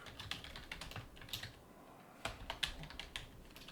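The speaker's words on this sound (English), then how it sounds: "type something" Light typing on a computer keyboard while editing web page text, heard as soft, irregular key taps and clicks, quiet and close, with no one talking.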